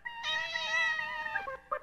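A cat gives one long, loud, drawn-out meow close by, with a short second cry at the end and no other sound.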